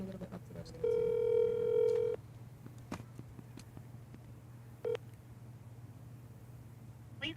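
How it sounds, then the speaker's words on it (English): A phone call ringing tone sounds in a short burst, followed later by a brief electronic beep, all quiet over a low background hum, with no talking. "Now I'm calling him 4 times."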